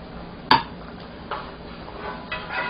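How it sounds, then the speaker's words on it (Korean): A utensil stirs shrimp in a pot of boiling water, giving a few light scraping clinks against the pot over a quiet simmering background. "새우가 바닥에 들러붙지 않도록 살짝 저어주시고"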